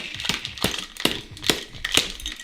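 Five sharp knocks in an even rhythm as a cocktail shaker holding an espresso martini is banged to loosen its lid, each close and crisp.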